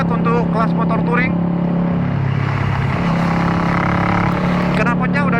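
A 2018 Kawasaki Versys 650 touring motorcycle fitted with a Two Brothers full-system exhaust runs with a steady, loud low engine drone that rises briefly in the middle, with someone talking over it at the start and end.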